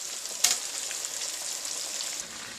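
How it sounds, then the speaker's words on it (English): Buttermilk-marinated chicken frying in hot oil gives a continuous close, crackling sizzle with a sharper pop near the start and no voices. "If you're doing shallow frying, you have to change the side probably in 10 minutes."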